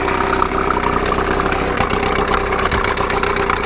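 An old Mercury outboard engine runs close by with a busy, rattling mid-pitched drone that holds steady throughout, no voices over it.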